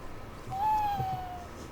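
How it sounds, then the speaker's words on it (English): A single drawn-out owl hoot sounds in the middle of a tabletop role-playing session, a clear steady tone over faint room background. "You hear an owl noise."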